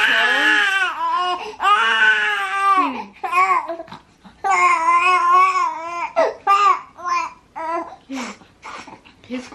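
A fussy infant cries and whimpers in repeated close, loud wails broken by short gasps and softer babbling whines.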